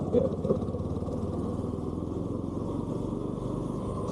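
A Rapido bike taxi motorcycle riding through Mugalivakkam streets, its steady mid-pitched engine drone continuous and close throughout, with a voice talking over it.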